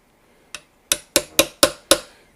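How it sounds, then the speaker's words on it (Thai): Light hammer taps on a grinder gear: six sharp, close metallic knocks, the first softer and the rest evenly spaced and louder, each with a short ringing decay in a quiet room. "ตอกนิดเบาๆนะไม่ต้องไปตอกแรงนะฮะไม่ต้องไปตอกแรง"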